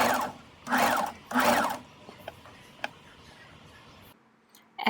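A sewing machine runs in three short loud bursts while stitching a 1 cm edge on a cake skirt, followed by quieter ticks and clicks of fabric handling.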